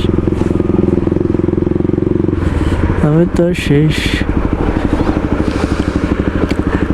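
A motorcycle without a rear mudguard rides through a busy Bangladeshi market in Saudi Arabia, its engine a close, steady low drone beneath a voice.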